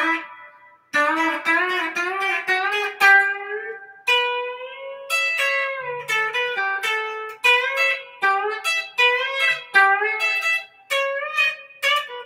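A twangy guitar fill from a classic country instrumental, played solo with quick picked runs and bent notes. It climbs from E toward an A pentatonic position in short, rhythmic phrases, clear and close with no talking.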